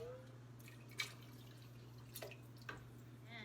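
Tomato water from rinsed San Marzano tomato cans drips into a sauce pot, three or four quiet, separate plinks over a low steady electrical hum, close and faint.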